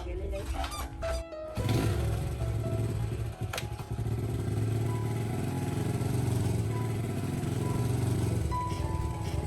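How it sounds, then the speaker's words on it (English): A motorbike's engine drones steadily as it rides off down a village road, a sustained mid-loud rumble after a brief clatter, with birds chirping and brief background voices. "As his figure and the motorbike slowly disappeared down the road."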